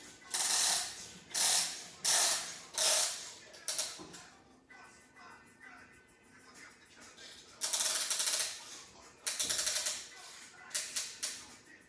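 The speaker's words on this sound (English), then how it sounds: "Haven't got the best spring compressor unfortunately, but it will do." A spring compressor is ratcheted tight during a Toyota 2JZ engine build, sounding as a run of close, rhythmic clicking ratchet strokes, a quieter pause, then more bursts of rapid ratcheting.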